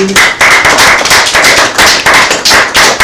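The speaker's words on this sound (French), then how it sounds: "Est-ce qu'on peut s'applaudir ceux qui sont là aujourd'hui?" Dense applause from a studio audience at a French-language television show, loud and close, with sharp rapid claps that run continuously for a few seconds.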